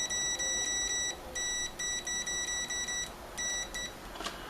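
Multimeter in diode test mode giving repeated electronic beeps in short on-off bursts, faint and close, with brief pauses between groups.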